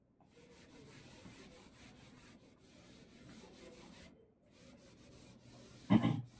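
A dry-eraser or cloth rubs steadily across a classroom board for several seconds, a soft continuous scrubbing that pauses briefly before a sharper, louder swipe near the end.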